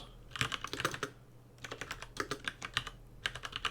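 A group name is typed on a computer keyboard in three quick bursts of light, rapid key clicks separated by brief pauses, close and fairly quiet with no talking.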